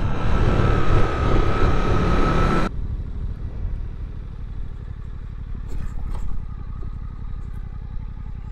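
A Suzuki GSX-8S motorcycle runs with a loud wind-blasted engine roar for a few seconds, then drops to a quieter, lower rhythmic idle-like putter with a couple of brief mechanical clicks.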